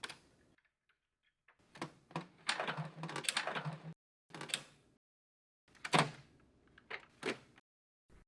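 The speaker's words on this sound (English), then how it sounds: "Pull out the print cartridge tray and then remove the red tabs." The print cartridge tray of a Xerox C305ae printer is pulled out, giving clustered plastic clicks, scrapes and sliding rattles in several bursts with short silent gaps, close and fairly loud, with no voices.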